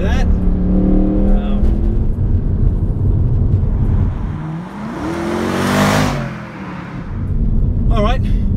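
Mercedes C63 AMG engine revving hard on throttle, a loud, steady roar rising and falling in pitch with a brief swell near the middle, heard up close with people talking over it.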